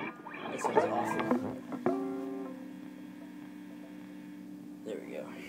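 A Kustom guitar amplifier, played through the neck pickup with the gain turned all the way up, gives a few strummed guitar notes before a steady electrical hum buzzes on alone.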